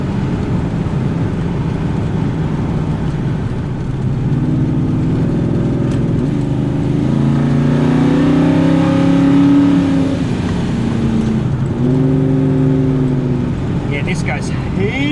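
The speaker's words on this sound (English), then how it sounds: "So let's give it a kick down up the hill. Full throttle, 40 mile an hour." A Ford XW with a 351 Cleveland V8 accelerates uphill at full throttle around 40 mph, its engine note rising steadily inside the cabin, loud and droning, with a voice talking over it.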